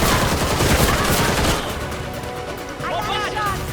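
Rapid gunfire from Gotham Knights rattles hard and loud for the first second and a half, then eases into a quieter ringing tail with a further burst near the end.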